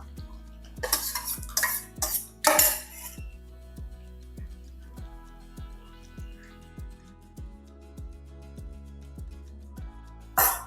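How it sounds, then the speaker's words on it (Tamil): A spoon stirs yogurt into thickened gravy for instant mor kuzhambu in a pan, with steady scraping strokes at close range and a few louder bursts of clatter early on. "இப்போ இந்த தயிரை இதில் ஊற்றிடலாம்"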